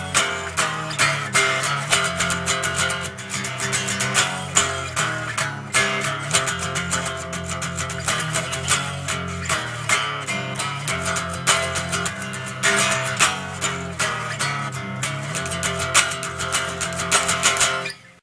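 Electric guitar playing the bridge of a song, dense distorted chords struck in a driving, steady rhythm, loud and continuous with no voices.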